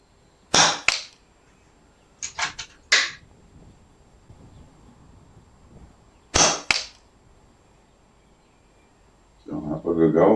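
Shots from an FX Wildcat Mk.3 air rifle, sharp cracking reports in quick clusters with pauses between, close and crisp, followed by a brief burst of talk at the end.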